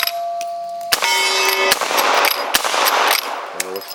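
Gunshots from an 1866 Winchester reproduction rifle in a shooting game, several sharp loud cracks with metallic ringing and clanking between them, close and irregularly spaced.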